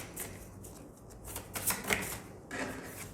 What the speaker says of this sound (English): I'll just shuffle again.